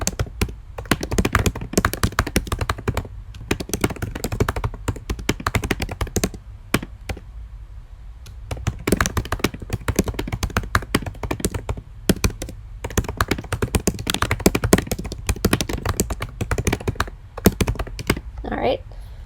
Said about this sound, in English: type our cool title here